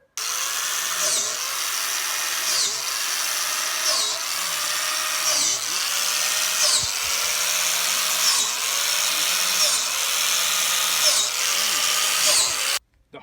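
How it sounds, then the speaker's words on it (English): A power drill bores holes into a log for mushroom growing, a steady loud whine running for about thirteen seconds and rising and falling in a regular rhythm as each hole is cut, close by with no talk. "we're going to drill holes into the log"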